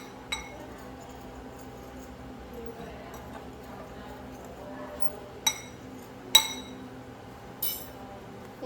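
A fork clinks against a bowl while mixing Christmas bake ingredients, giving a few sparse, sharp metallic taps spread across several seconds over a faint steady room hum.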